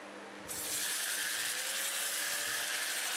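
An electric fan in a woodturning workshop switches on and runs with a steady, loud whooshing hum that fills the space after a quieter start, continuous and even with no speech.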